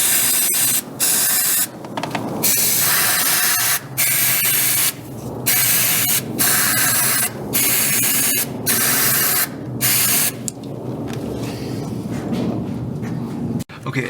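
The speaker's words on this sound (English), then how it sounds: "Carburetor cleaner is a strong solvent. And so now I'm just going to spray this inside" Carburetor cleaner sprayed from an aerosol can inside a carburetor during an idle vibration repair, loud hissing bursts repeating in short irregular spurts with brief gaps between them.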